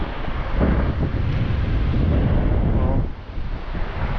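Strong wind buffets the microphone at a Michigan beach rest area, a loud continuous low rumble with gusting swells that eases near the end.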